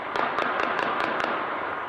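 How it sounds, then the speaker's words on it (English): Rapid cracks of gunfire at anti-government protests in Iran, about seven sharp shots in a quick uneven series over a steady noisy background, moderately distant. "More anti-government protests and gunfire."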